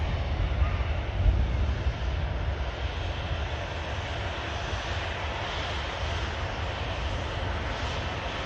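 A jet airliner vacates the runway and taxis past at Manchester Airport, its engines giving a continuous, fairly close rumbling whine that stays level throughout, with no talk.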